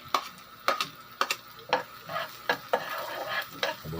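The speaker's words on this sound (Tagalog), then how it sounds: "Lagay ng luya. Igisa ng kaunti." Ginger sautés in hot cooking oil for squid adobo, a steady sizzle broken by sharp, regular scrapes of a spatula stirring about every half second, close and moderately loud with no voices.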